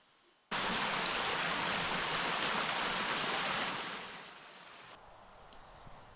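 Howcroft Brook in Ashendean Clough, near Pendle Hill, rushes in a steady, loud broadband wash that cuts in abruptly, holds, then softens and drops away to quiet outdoor ambience.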